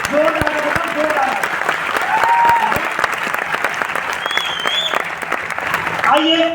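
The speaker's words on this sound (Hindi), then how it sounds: "एक बार ताली बजाओ संतोष के लिए" An audience applauds at a success celebration event, a loud, continuous burst of many hands clapping with voices faintly audible through it, steady from start to finish.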